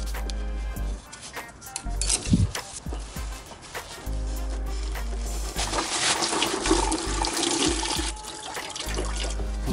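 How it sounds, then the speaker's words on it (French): Coolant drains out of a Jeep Cherokee XJ engine that has been overheating, a steady liquid splash and trickle heard close, with clanks of tools and faint background noise. "on va purger le liquide de refroidissement"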